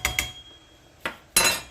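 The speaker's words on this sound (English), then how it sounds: "Giving that a quick stir" A spoon knocking against a pot of beef vegetable soup as peas are stirred in: a few sharp metallic clinks, two quick ones, a pause, then two more, the last ringing brightest.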